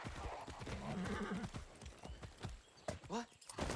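Video game horse hooves clip-clop in quick steps alongside a short whinny, mixed under a person talking over the game audio.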